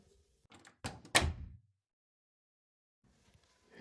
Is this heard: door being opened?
yes